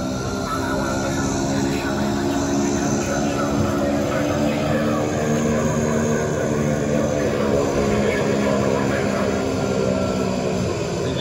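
An airplane on its landing approach at Billund airport, its engines giving a loud, steady drone with a layered hum that holds evenly for the whole stretch.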